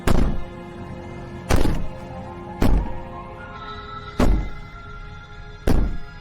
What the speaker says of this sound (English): Maybe the banging and wailing will stop if you just don't pay attention to her.